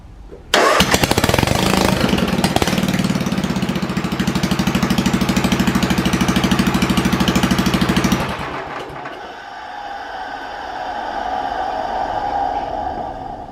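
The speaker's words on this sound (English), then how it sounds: "when I started it up, I could hear the gears inside the motor" A small motor engine starts right after an oil change and runs loud and steady for several seconds, then drops to a quieter, smoother idle hum.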